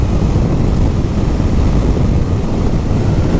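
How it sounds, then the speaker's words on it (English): A Honda VFR 800 V-TEC V4 motorcycle engine hums smoothly while riding, a continuous loud low drone mixed with strong wind rush, no voices. "it's a V4 engine, a lovely smooth engine"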